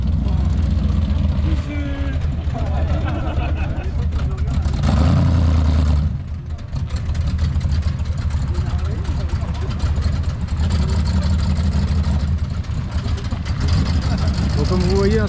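A muscle car engine rumbles and revs at a cruise night, a loud throaty roar rising and falling close by, with people talking over it throughout.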